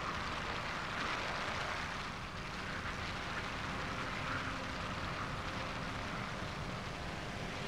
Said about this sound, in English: Here comes a plane.